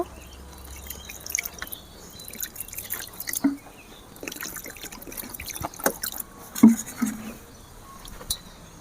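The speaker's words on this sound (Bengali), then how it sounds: "এবারে আমি ঠান্ডা জল দিয়ে দুবার ধুয়ে নেব।" Cold water drips and trickles while chhena (paneer curds) is rinsed, sparse close splashes and drops over a quiet background, with no talk.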